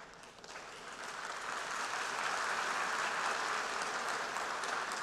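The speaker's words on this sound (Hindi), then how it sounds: "आप गया था इसकी ताली बजा रहे हो," An audience in a large hall applauds for Prime Minister Modi at a speech, the clapping swelling from a quieter start into a dense, sustained ovation that stays loud to the end.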